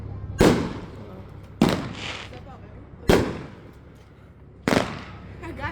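New Year fireworks explode in four sharp, loud bangs spaced about a second and a half apart, each trailing off into crackle, with people talking in the background between bursts.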